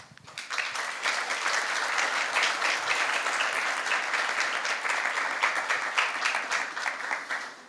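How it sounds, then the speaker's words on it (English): A crowd applauds steadily at a cultural conference, dense and sustained for several seconds before tapering off at the end. "And I think they deserve a big applause."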